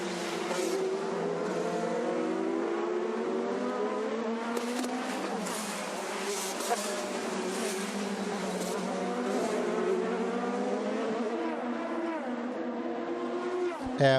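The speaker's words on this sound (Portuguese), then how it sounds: "E o Alexander Rossi, ó, já faz a ultrapassagem para cima do Matheus Leist" IndyCar race cars on the Long Beach street circuit in 2018 hold a steady, high-pitched engine drone for the whole stretch, layered whines shifting in pitch as cars accelerate and pass at a distance.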